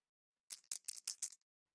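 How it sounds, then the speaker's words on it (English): Dice roll across a tabletop during a role-playing game session, a quick, close clatter of five or six sharp rattling ticks in under a second, alone against silence. "More dice rolling."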